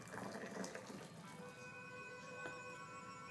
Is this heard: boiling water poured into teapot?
yes